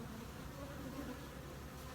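A dense, steady buzz of many honey bees humming together at a hive, continuous and fairly close, with no voices.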